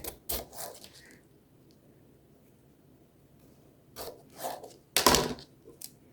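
Crisp knife cuts through raw potato on a cutting board land in a few separate strokes, one near the start and a sharper pair later, with quiet pauses in between.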